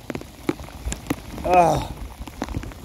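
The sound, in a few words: rain falling while fishing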